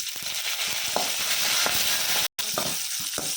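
Shallots and curry leaves sizzle in hot oil in a clay pot, a loud continuous frying hiss with occasional stirring scrapes, close by and uninterrupted apart from one very brief cut.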